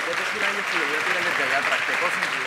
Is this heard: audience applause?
yes